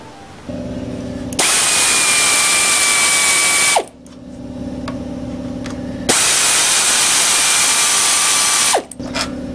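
A power tool drives out the perimeter bolts on the cover of a Briggs & Stratton 9 hp engine, two loud sustained whirring bursts of a few seconds each with brief ratcheting between them, close up and with no talk.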